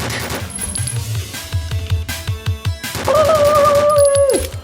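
Rapid automatic AK47 fire in Minecraft, loud bursts of shots in quick rhythm followed by a sustained tonal game sound near the end.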